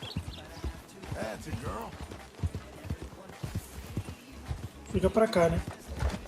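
Horse hooves clopping and a whinny in the video game Red Dead Redemption 2, heard under ongoing talk from a player and in-game dialogue, with a louder burst of hoof and rein sounds near the end.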